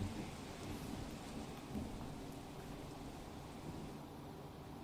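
Heavy early-morning downpour in Mansa and Dehgam, Gandhinagar district, North Gujarat, with low rumbling thunder; steady dense rain hiss runs throughout, with a soft thunder swell near the second mark, and no voices.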